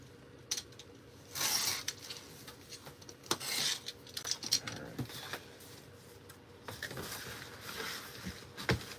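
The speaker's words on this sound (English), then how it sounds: "Alright, so I'm just gonna cut this up." A knife slicing and cutting up packing material at a packing table, giving scattered scraping and crackling bursts with light clicks, close and moderately quiet, with no talk.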